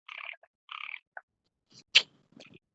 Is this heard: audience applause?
no